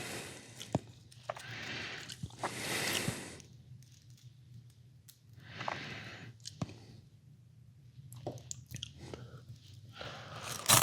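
Chili cheese fries with a taco-style chili seasoning are being eaten close to the mic, with soft crunchy bites and wet chewing in uneven bursts separated by quiet pauses.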